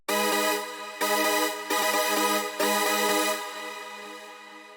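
A bouncy, detuned synth chord preset for a bigroom climax, stabbed four times in a steady rhythm. The last stab sustains and fades gradually. The sound is loud, wide and bright, with no voices.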